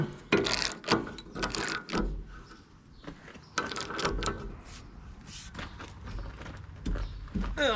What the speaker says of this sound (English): Get your big ratchet and tighten him up.